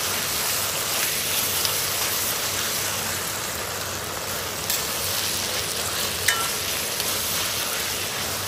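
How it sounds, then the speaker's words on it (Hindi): Chicken for jalfrezi fries in a pan with ketchup added, a loud, dense, continuous sizzle close up with only tiny clicks, no voices over it. "तीन मिनट तक जी हमने अच्छे तरीके के साथ अपना चिकन को भूना है।"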